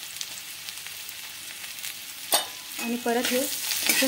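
Paneer fries with chilli powder and turmeric in a pan, a low steady sizzle at first, then sharp spatula scrapes and stirring clanks near the end. Someone speaks briefly over the stirring.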